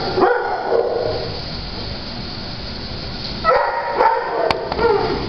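Honey, a 40-pound, 4-year-old high-energy dog, barks loudly and close by, giving a couple of sharp barks at the start, then a quiet stretch, then a cluster of three or four more barks near the end.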